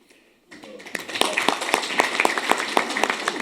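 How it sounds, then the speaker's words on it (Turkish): Applause at an award ceremony held by a local association, starting abruptly after a brief quiet moment and building into dense, close clapping with distinct sharp claps standing out over about three seconds. "kardeşimi canı gönülden alkışlıyorum"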